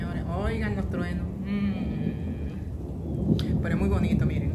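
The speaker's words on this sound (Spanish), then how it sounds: "Oigan los truenos" Thunder rumbles low and continuous during rain over a golf course, a steady rolling boom under someone speaking throughout, with a swelling peak near the end.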